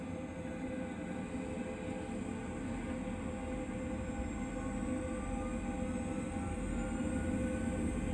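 Boeing 737-800 on its takeoff roll heard from the cockpit between Lanzarote and Fuerteventura, a dense low engine roar and rumble with a faint high whine, steady and building slightly, no speech.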